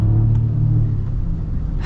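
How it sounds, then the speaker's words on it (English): Mercedes S580e plug-in hybrid's inline-six engine pulling under acceleration, a steady low cabin rumble with droning harmonics that holds near and fairly loud for the whole stretch, easing slightly toward the end. "it's interesting to hear the sound of the engine with it being on"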